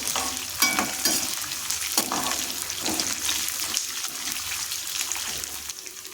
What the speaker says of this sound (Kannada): ಸ್ವಲ್ಪ ಕರಿಬೇವು ಸೊಪ್ಪನ್ನು ಹಾಕಿ ಅದನ್ನು ಸಹ ಇಲ್ಲಿ ಎಣ್ಣೆಯಲ್ಲಿ ಫ್ರೈ ಮಾಡ್ತಾ ಇದ್ದೀನಿ.